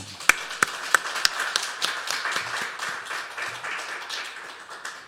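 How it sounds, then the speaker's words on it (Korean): A church congregation claps together, starting with a few sharp, separate claps and building into sustained, scattered applause that slowly tapers off. "여러분 하나님께 우리 박수로 영광 올릴까요?"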